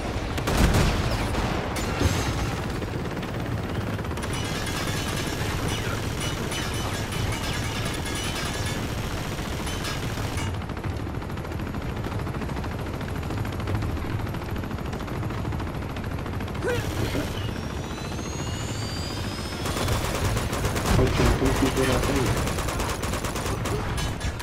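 Dense gunfire from the video game Uncharted 2, with near-continuous rapid shots and automatic bursts and loud sustained crackle throughout, while someone talks over it.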